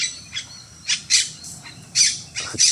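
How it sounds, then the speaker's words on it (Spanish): Wild parrot squawking in open country, a series of harsh, piercing calls in irregular bursts, some sharp and loud, others fainter, with no talking over them. "¿Dónde estás, mendigo perico?"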